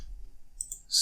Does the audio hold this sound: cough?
no